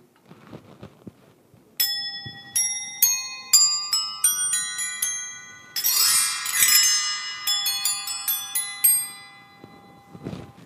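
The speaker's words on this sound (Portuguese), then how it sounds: "Um jogo de sino." A set of bells struck one after another, bright ringing tones with long sustains, a cluster rung together midway, faint rustling between strikes.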